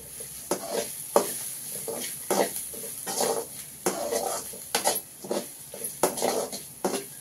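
Curry leaves fry in hot oil in a pan while being stirred, for an okra and yogurt chutney. Steady sizzling runs throughout, broken by repeated scraping strokes of the spoon against the pan, with no talk.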